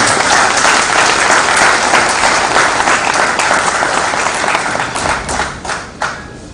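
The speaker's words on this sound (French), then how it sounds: "Nous devons l'applaudir." An audience at a documentary screening in Kinshasa honouring victims claps loudly, a thick sustained applause that thins into scattered, distinct claps near the end.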